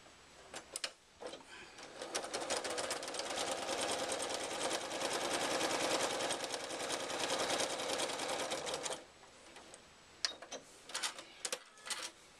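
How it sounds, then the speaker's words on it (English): A sewing machine runs a quarter-inch quilt seam in one continuous whirring stretch of about seven seconds, close and fairly quiet, followed by a few clicks and handling noises, with no talk. "Now I'm going to put this piece on the other side, line it up the same way so I can sew my 1/4 of an inch seam."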